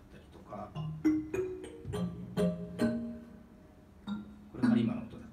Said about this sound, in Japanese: これカリマの音だったり